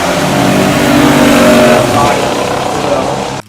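A 1970 Oldsmobile Cutlass 442 W30 muscle car engine revs loud and close, a steady throaty roar that swells slightly mid-way and then cuts off abruptly at the end.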